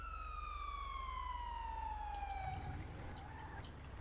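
Ambulance siren in the video game GTA V, a steady tone gliding slowly downward over a low engine hum, then shifting pitch as the vehicle rumble grows near the end.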